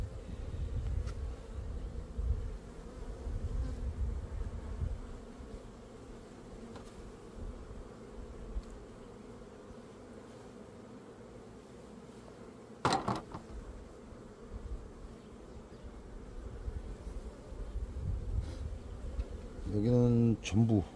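Honeybees buzzing steadily around an opened hive during an inspection, a low continuous drone with a few sharper, louder passes near the end.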